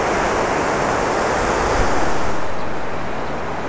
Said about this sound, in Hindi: मुमकिन है कि मेरी आवाज़ के साथ साथ आपको पानी की आवाज़ भी आ रही हो